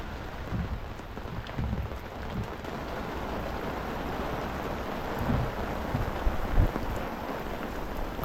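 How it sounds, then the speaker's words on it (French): Steady rain falls continuously, a dense hiss of drops on surfaces with occasional louder splashes, close by and without voices. "Et on entend la pluie."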